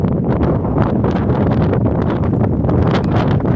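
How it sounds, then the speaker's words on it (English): Strong wind gusting across the rim of the Snake River canyon, above Swan Falls Dam: loud, steady low roar of air buffeting the microphone with rapid fluttering pulses throughout, no voices. "Quite a bit of wind today too."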